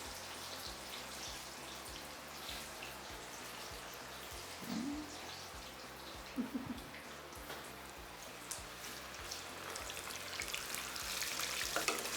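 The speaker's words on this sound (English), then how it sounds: "we should be done frying them in less than 5 minutes for all of them" Potato wedges fry in hot oil in a pan, giving a steady, dense sizzle and crackle with a few louder spatters and stirring bumps partway through, close by and with no talking.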